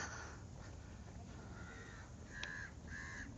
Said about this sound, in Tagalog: Grabe yung mga uwak ay oh.